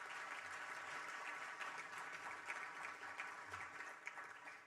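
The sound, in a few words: audience round of applause for panelists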